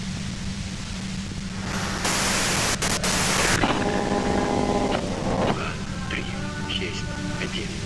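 A loud burst of white-noise static hisses for about a second and a half in the detective game Disco Elysium, set between stretches of steadier background noise, with a voice speaking afterward.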